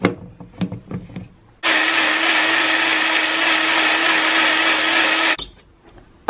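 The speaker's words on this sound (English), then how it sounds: "And then I am using my NutriBullet to mix everything together." A NutriBullet blender purees sweet potato filling mixed with water, a loud steady whir running for about four seconds after some brief kitchen clatter, then cutting off abruptly.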